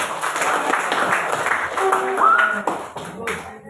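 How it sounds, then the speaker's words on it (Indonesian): A group of participants in a classroom or workshop session clap together after a movement game, uneven bursts of hand claps mixed with lively voices and chatter. "tepuk tangan untuk semua"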